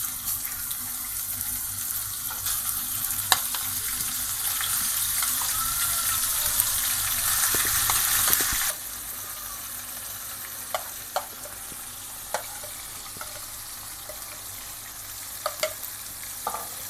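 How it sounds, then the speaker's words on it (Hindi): Minced meat frying in oil in a pan over low to medium heat, a steady hiss running throughout with scattered clicks of stirring, louder in the first half before settling into a quieter sizzle. "ये ना कीमा डाल के ना पहले ऑयल में हल्की आंच पे, मीडियम पे, तेज़ नहीं करनी आंच।"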